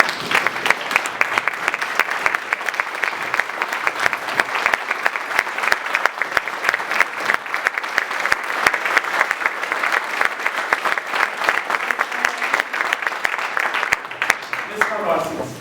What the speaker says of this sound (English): All of you to stand up and just applaud